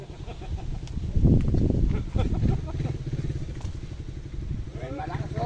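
A loud motorcycle engine, a Raider, runs close by with a steady low rumble that swells briefly near the start, while people talk over it in a rural outdoor setting.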